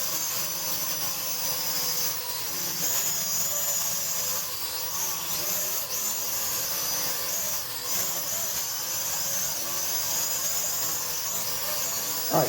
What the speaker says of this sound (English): listen to the brushless motors on this thing are great